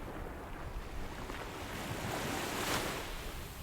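Ocean surf washing steadily onto a sunset beach, a broad continuous wash with wind noise that swells slightly toward the end, no voices.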